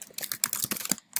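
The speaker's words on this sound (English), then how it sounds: "I'm just going to type in what is your favorite virtual reality game?" Quick, close typing on a computer keyboard, a rapid irregular run of light key clicks with a brief pause near the end.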